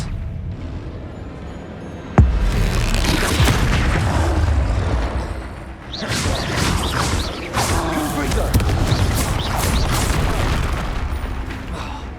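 A blasting spell explodes in the Hogwarts Legacy video game with a sudden loud boom, then a sustained roar of rumbling debris and magical crackle that continues through the rest of the scene.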